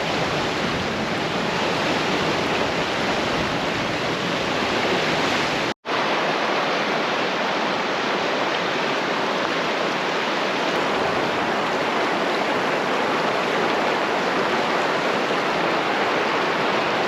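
Clear river water in Alaska flows with a constant, dense rushing hiss, close and loud, broken only by a split-second dropout partway through.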